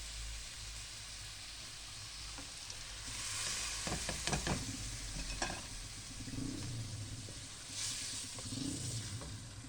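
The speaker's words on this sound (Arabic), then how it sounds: "بعد كده ننزل بالطماطم بتاعتنا" Tomatoes hit a pot of vegetables and meat for a large-batch vegetable-and-meat stew, producing a soft, steady frying sizzle with a brief cluster of clatters midway, quiet and without speech.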